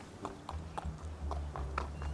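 A horse walks steadily with evenly spaced, firm hoofbeats over a low humming background during a riding lesson in the video game Star Stable. The hoofbeats are quiet and close, and nobody talks.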